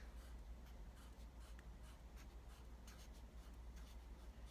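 A pen writing "Happy Father's Day" on paper: faint, steady scratching strokes with brief pauses between letters, heard alone in a quiet room.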